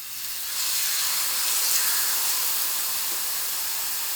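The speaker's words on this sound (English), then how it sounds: "It's gonna sizzle." Flank steak sizzles loudly on a hot grill pan, a dense, steady crackling hiss that rises within half a second and holds strong throughout.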